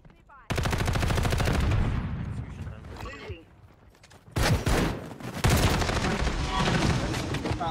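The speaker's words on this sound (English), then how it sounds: "Oh, it's a shotgun." Shotgun gunfire in Call of Duty MWIII team deathmatch, loud bursts of shots that start abruptly, pause, then return in rapid blasts.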